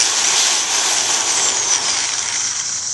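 A continuous, loud grinding whir of a power drill boring out a hole in the metal of a Jeep AX15 transmission, cutting steadily and unbroken for the whole stretch.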